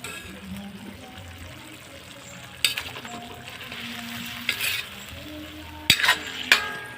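Meat stir-frying in a home kitchen pan, a steady low sizzle with occasional sharp scrapes and clanks of a utensil stirring, fairly close and without talk.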